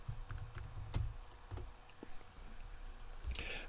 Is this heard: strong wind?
no